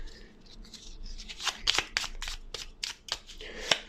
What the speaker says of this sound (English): So we need to shuffle our deck because this needs to be shuffled